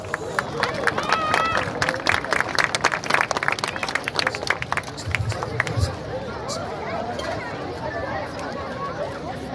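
An audience claps at a ceremony honouring local youth, with a burst of scattered, close applause that fades after several seconds into crowd murmur and chatter.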